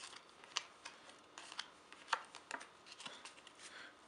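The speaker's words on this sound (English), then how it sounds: "Give them a quick shuffle and a tri-cut." A deck of playing cards is given a quick shuffle, heard as faint, scattered clicks and soft snaps in an otherwise quiet room.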